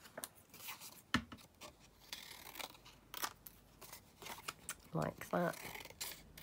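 Scissors snip through lined paper for a junk journal in several short, crisp cuts, close and fairly quiet, with a brief bit of speech near the end.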